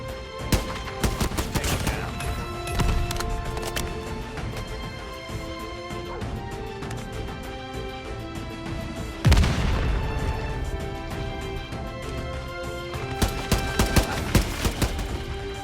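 Grenade explosions and gunfire in a shooter video game, with scattered shots and crashes throughout and a heavy blast near the middle, followed by renewed bursts of fire, loud and close.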